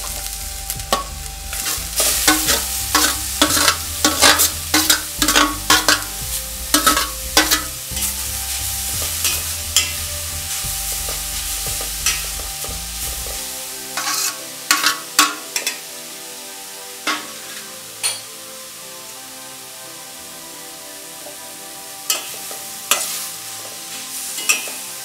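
Grated carrot sautés in ghee in a heavy-bottomed pan, with a steady close sizzle and repeated sharp spoon scrapes and knocks, busy early and then sparser as the frying quiets down.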